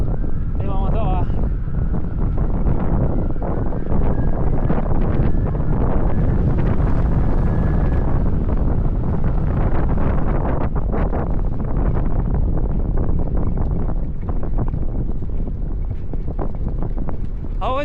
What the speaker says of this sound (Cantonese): 不過呢度真係好大風啊！